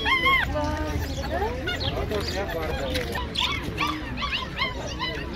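Several dogs bark, yip and whimper close by at an outdoor fair market in Kropotkin, Russia, in a busy, noisy setting, with overlapping calls throughout.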